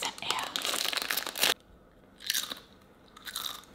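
Potato chips crunched up close for ASMR, with loud crackling bites and crinkling bursts in three separate spells divided by near silence.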